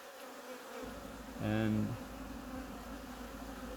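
Honey bees hum around an opened hive during a spring check near Melbourne, a low steady buzz with one louder bee passing close for a moment, plus a brief word of speech.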